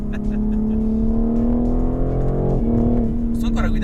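A BMW M4 Competition G82 engine drones steadily while driving, a loud tonal hum rising slowly, then a brief dip and shift near the end, with someone talking over it.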